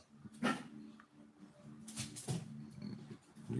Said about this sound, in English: we're in here with the puppies being rowdy and doing what puppies do